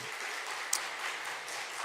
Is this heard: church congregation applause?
yes